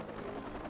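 A helicopter in Watch Dogs gives off a steady, fairly faint rotor drone with a low rhythmic chop, heard alone for under a second.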